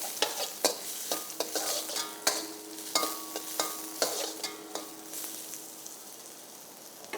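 Chopped onion with spices such as cinnamon, cloves, cardamom, fennel, curry leaves and dried chillies being sautéed in oil, with a steady sizzle and repeated sharp scraping stir strokes of a spoon against the pan, close by for a mushroom masala.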